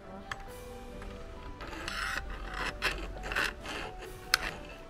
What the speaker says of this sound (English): We're going to file the end so it's not rough.